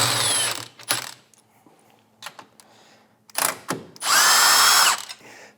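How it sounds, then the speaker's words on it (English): A power tool runs in short, loud bursts to tighten bolts on a brace of a 2021 Toyota Supra, with quiet pauses and small clicks between bursts and no talking. "And then we can finish it up with a power tool."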